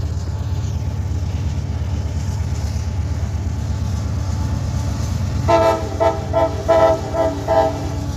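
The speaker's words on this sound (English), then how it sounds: "There's a honking at it." A train horn toots in short repeated blasts a few seconds in, over a steady low rumble of engine noise in the background.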